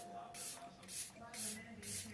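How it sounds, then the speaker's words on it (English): Hard Candy Look On Lock 16-hour setting spray hisses out in four short, even bursts from close range, separated by brief pauses, with faint low background sounds. "we're gonna use the Hard Candy Look On Lock Setting Spray, 16-hour spray, my little go-to."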